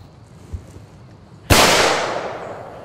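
A single loud gunshot from a handgun fired outdoors by a lake, a sharp crack followed by a long decaying tail, preceded by faint quiet ambience and a small thump.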